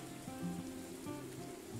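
Rain falls steadily in the mushroom-hunting video game Morels: The Hunt, a soft continuous patter on surfaces under a low musical drone, with no talking.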